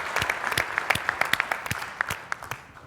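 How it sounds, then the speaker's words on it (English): A conference audience applauds panelists with a sparse scattering of distinct, sharp claps from a modest crowd, tapering slightly toward the end. "So let's give our panelists another round of applause."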